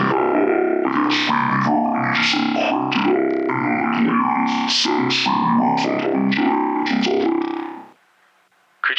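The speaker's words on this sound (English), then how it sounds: "Oh, I love the megaphone one. The megaphone one's so fun. It sounds like an old-timey radio." A voice run through the megaphone effect on a FiFine SC8 USB mixer sounds tinny, distorted and boxy, like an old radio, as a person talks loudly and continuously before a short silence near the end.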